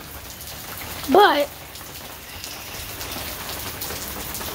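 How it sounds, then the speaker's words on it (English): Heavy rain from Hurricane Nicholas hisses steadily as a dense, even wash, with a brief spoken word cutting in near the start. "It's Hurricane Nicholas. Raining like really, really bad."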